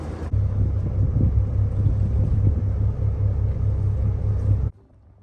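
A sailboat's inboard engine idles steadily while motoring slowly toward shore, a low continuous rumble with wind buffeting the microphone, cutting off abruptly near the end.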